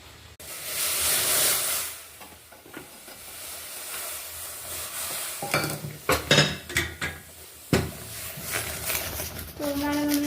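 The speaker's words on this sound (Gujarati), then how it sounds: "લોટ નાખી દીધો છે હવે એને સરખુંથી મિક્સ કરશું" Flour being stirred into boiling dough for papad in a pot, with a hiss of steam at first, then irregular scraping and knocking of a spoon against the pot, a voice talking partway through.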